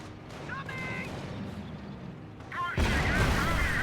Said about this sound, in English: And not receive more anti-tank gunshots